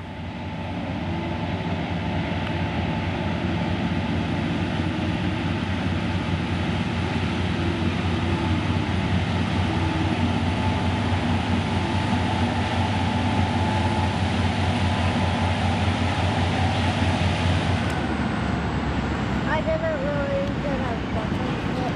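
Norfolk Southern NS264 freight train passing near Little Hoosac in North Adams, heard as a loud, steady low rumble and roar that holds for about eighteen seconds before easing off.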